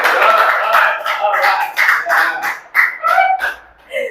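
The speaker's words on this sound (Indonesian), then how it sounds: "Sekali lagi tepuk tangan teman-teman" A talk-show audience claps for a guest artist while excited voices and whoops rise over the uneven clapping, loud and close, before fading out near the end.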